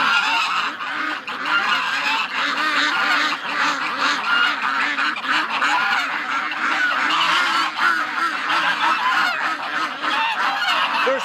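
Many rescue ducks crowded in their pen on a winter day honk and quack nonstop, a loud, close, tightly layered racket with no pauses.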